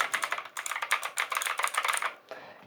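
Rapid clicky typing on a White Shark Commando tenkeyless mechanical keyboard with blue switches and a metal backplate, a dense run of sharp keystrokes heard up close, with a brief pause before a few final presses.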